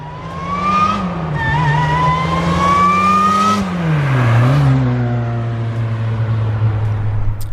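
A supercharged 2006 Acura RSX Type S drives along a road, its engine droning loudly up close with rising and falling pitch as it accelerates and shifts, a steady whine layered over the exhaust.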